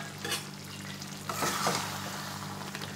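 Thick parwal korma gravy is stirred in a pan over low flame, a soft frying sizzle under a few scraping strokes of a spoon, quiet and close, with no voices.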